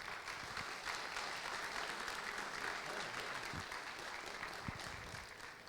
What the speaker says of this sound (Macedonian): да го наградиме со еден голем аплауз